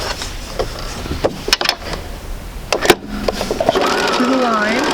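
A sewing machine stitches fabric for a quilt sampler in quick short bursts of rapid whirring, close and fairly loud, with a person talking around the stitching.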